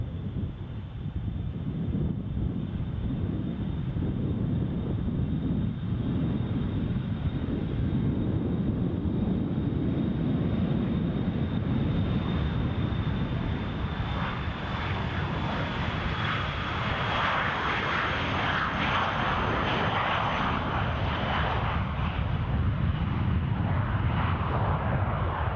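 An airliner takes off and climbs away from Edinburgh Airport, a long, sustained engine roar with a high whine that swells and shifts as it rises, some wind noise on the microphone and no voices.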